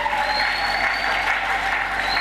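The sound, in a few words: congregation applause in church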